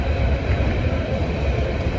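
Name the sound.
train at Berlin station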